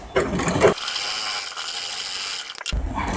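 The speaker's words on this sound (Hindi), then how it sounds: "यहाँ से मैं एक सिलाई लगाता हूँ।" A sewing machine stitches the lining of a princess-cut blouse, running in a short, steady mechanical whir between brief handling noises, loud and close.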